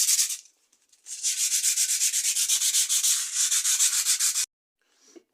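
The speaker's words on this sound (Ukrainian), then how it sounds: "беремо і зачищаємо наш щиток повністю" A metal shield from an IZh Planeta 3 motorcycle being scraped clean during restoration: loud, close, steady rhythmic rasping strokes in a long continuous run, with a short pause before and a faint stroke after.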